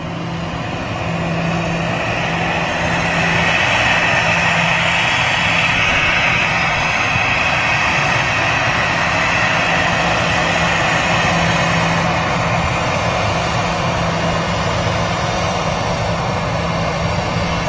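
Jet aircraft at Manchester Airport make a loud, continuous engine roar with a steady low rumble and broad whooshing hiss that swells slightly mid-way, heard from a distance without talking.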